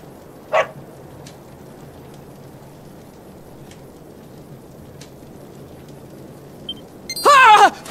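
A dog barks in Dragon Quest XI, a short sharp burst close by, then a longer run of yapping at the end over quiet game ambience.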